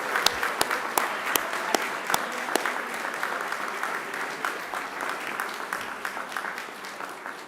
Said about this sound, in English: give yourselves a resounding round of applause